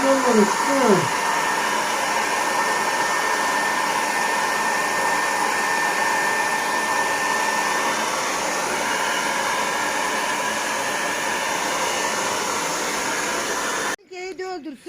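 A hair dryer blows a steady, loud whoosh while drying a small animal after a milk bath in a village home. It runs almost without a break until a brief cutoff near the end.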